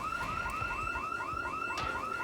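A car alarm blares in Project Zomboid, the video game, set during a winter storm in Russia, repeating a rising warble in a fast steady cycle, loud and continuous with no talk.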